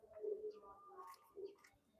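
Soft, low pigeon coos come in two short bursts, quiet and close, with little else around them.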